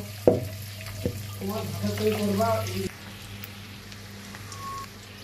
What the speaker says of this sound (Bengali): ডিমগুলো আমি ভেজে নেব